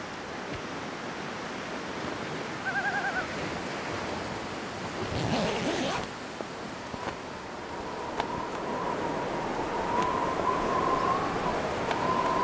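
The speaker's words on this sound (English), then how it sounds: "Ah, that's some windy weather." Stormy wind and crashing surf in The Long Dark near a lighthouse, a steady broadband roar of gusts and waves with a louder whoosh midway and a faint tonal whistle later, no talking.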